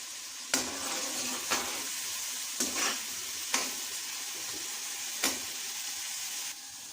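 Onions fry with a steady sizzle in a pan, broken by a few brief scraping stirs at intervals.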